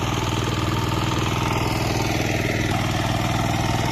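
A mini power tiller ploughs a muddy paddy field ahead of rice planting, its small engine giving a loud, steady, close drone that never lets up.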